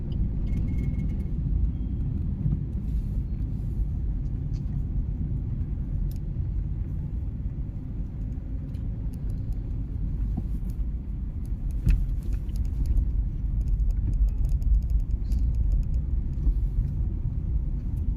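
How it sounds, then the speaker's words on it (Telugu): Traffic near a busy toll plaza on a Hyderabad highway gives a continuous low rumble of passing cars and engines, steady and fairly close throughout. "ఇక్కడ ట్రాఫిక్ ఉంది"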